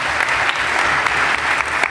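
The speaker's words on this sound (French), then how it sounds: "On remercie également Florence pour l'animation graphique. Voilà. Je pense qu'on peut l'applaudir." An audience at a plenary conference session applauds, a dense, loud, continuous patter of many hands clapping close by, with no talking over it.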